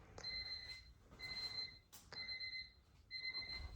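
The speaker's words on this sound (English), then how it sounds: "that Honda beep" A Honda car's electronic beep, a faint, high-pitched alarm-like tone sounding in four evenly spaced bursts, with a soft click between them.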